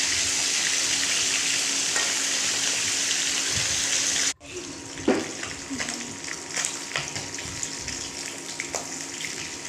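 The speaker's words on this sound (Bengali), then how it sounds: "মাছগুলো ভালো করে নেড়ে চেড়ে উল্টে দিচ্ছি।" Pieces of rui fish sizzle loudly in hot oil in a pan, a dense steady frying hiss that breaks off sharply partway through, followed by quieter sizzling with scraping and clinks as the pieces are turned.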